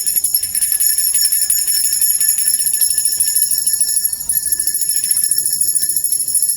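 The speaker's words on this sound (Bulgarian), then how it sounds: "Слабото място на Веном е силният звук с висока честота, например. Звукът на камбана." A high, bright bell rings continuously with shimmering overtones, loud and sustained, with a faint rattling texture beneath.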